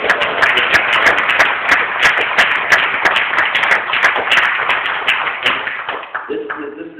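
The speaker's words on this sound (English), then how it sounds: "Please give a round of applause." A room full of about 300 community members clapping in a gym after volunteers are thanked, dense rapid handclaps that hold steady then thin out near the end.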